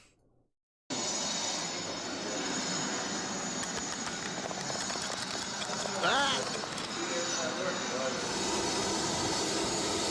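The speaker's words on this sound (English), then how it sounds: "Oh, it's the jet!" A jet aircraft's broad engine roar sweeps overhead and fills the clip, rising to a peak partway through, while a person briefly exclaims over it.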